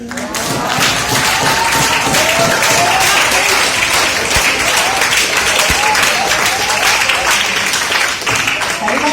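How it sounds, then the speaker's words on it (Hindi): Loud, dense audience applause with many hands clapping, girls among them, for a Hindi poem recitation at an IIT BHU event; steady and sustained throughout with no talk over it. "ये मुझे लग रही है कि लड़कियां बहुत तालियां बजा रही हैं।"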